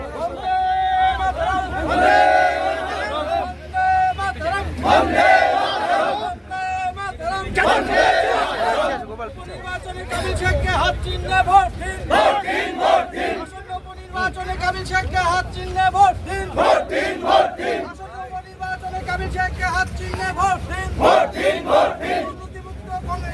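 Crowd at a Congress party by-election rally in Kaliganj, West Bengal, chanting slogans together in loud rhythmic bursts with an amplified voice leading, sustained over a noisy open-air gathering.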